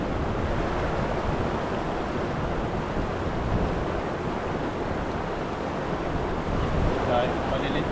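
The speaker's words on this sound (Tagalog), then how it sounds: "Medyo umiihip ng malamig yung hangin kabady ah. Yan lumalakas." Steady, broad rushing of cool wind over a drying river fills the whole stretch, loud and continuous, with a faint roar like surf underneath.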